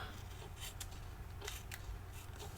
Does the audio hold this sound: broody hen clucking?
no